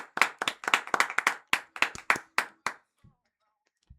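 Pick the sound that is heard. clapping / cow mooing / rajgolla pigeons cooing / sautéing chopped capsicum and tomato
clapping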